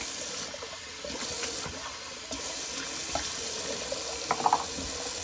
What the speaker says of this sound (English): Just gonna rinse out my sink because it's holding all the whiskers today.